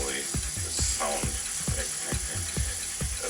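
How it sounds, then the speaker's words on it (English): Power sanding at 170 grit on a metal flashlight cover, a continuous buzzing whir with a steady, rapid rattling pulse running through it, loud and close. "Sanding at 170 now, and this annoys me really, the sound"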